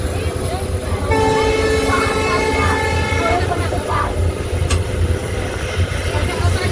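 WDP4D diesel locomotive hauling a passenger train out of Kurukshetra Junction, its steady engine rumble and rolling noise running throughout, with a long horn-like tone sounding in the middle section.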